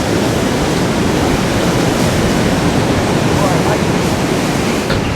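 Ocean waves wash close by at a beach turtle hatchery, a steady, loud roar of surf that fills the whole stretch without pause and carries no distinct individual breaks.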